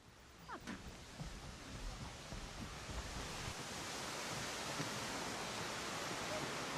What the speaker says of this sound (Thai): ได้ยินเสียงน้ำเลยล่ะ